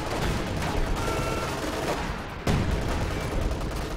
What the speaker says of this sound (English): here comes zeroing artillery to try and save his Schwerpan's headquarters